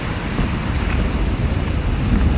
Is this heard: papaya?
no